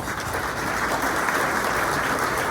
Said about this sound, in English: Please give him a round of applause and welcome him